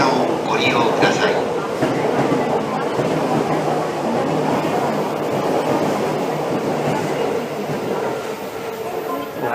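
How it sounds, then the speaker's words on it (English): A Keihin-Tohoku Line rapid train rushes without stopping through a Tokyo station in Ueno with a loud, steady rumbling roar and rattling wheels, continuous and close, with a brief voice near the start. "Well, that train didn't stop."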